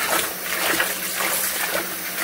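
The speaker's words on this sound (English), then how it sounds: "I like to do like both the hot and the cold water together, simply because cold water hurts your hands" Hot and cold tap water runs together in a kitchen sink while collard greens are washed, a steady close hiss and splash that continues without pause and without talk.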